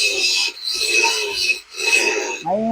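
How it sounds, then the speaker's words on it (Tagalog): A grinder cuts through a metal pipe being made into a used-oil stove, giving loud harsh rasping bursts that break off briefly twice before a whining tone at the end. "Naputol na ng ating grinder, yung tubo"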